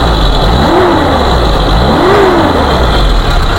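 A 1994 Suzuki Katana Type GX engine runs loud and close, revving up twice in quick rising-and-falling sweeps over a steady idle rumble.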